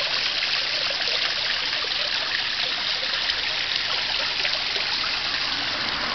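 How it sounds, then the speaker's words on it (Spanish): A small waterfall in a finished garden pond in Fortín, Veracruz, Mexico, pours in a steady, close, loud rush of splashing water that holds evenly throughout, with no voices. "Y la cascada funcionando"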